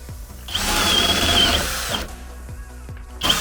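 A Skil XP DD1E3080 cordless drill bores with a 20 mm spade bit, giving a loud, close, steady whine for about a second and a half, then short clicks and a fresh burst starting at the end.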